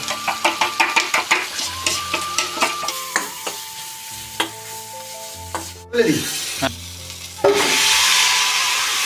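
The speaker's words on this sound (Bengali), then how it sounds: "মাংসটা দিয়ে দিলাম এখন কষানো শুরু করো" Chicken frying with ginger, salt, turmeric and cumin, opening with a quick run of rhythmic spoon scrapes and taps against the pan, then settling into a steady, louder sizzle near the end, with a low hum underneath and no speech.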